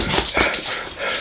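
A Scottish terrier worries a slipper close by, with short snorts, huffs and growly breaths in quick bursts.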